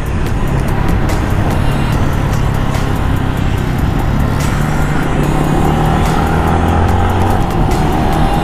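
Yamaha Y16ZR motorcycle fitted with an R9 carbon exhaust, its engine droning loudly and steadily with rising and falling rev tones throughout, close to the listener, with no speech.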